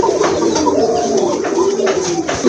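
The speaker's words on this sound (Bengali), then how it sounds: "মাশাআল্লাহ একটা মুখী কবুতর দেখতে পাচ্ছেন।" Pigeons coo steadily and close by, a continuous layered cooing with low murmuring throughout, the birds kept in a collection of pigeons for sale.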